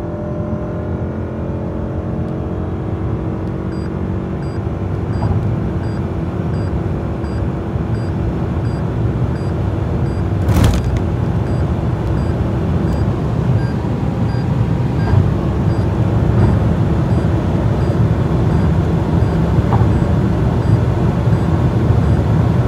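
A 2024 Toyota Camry accelerating hard toward 200 km/h in normal mode, heard from inside as a steady loud engine drone with heavy road and wind roar building evenly throughout.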